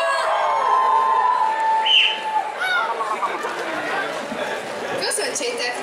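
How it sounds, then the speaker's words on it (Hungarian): A crowd of fans at a Hungarian summer cosplay convention shouts and screams in a large hall, a loud, sustained mass of voices with a few whistles and yells rising above it. "aki szeretett Diablot, sikítson"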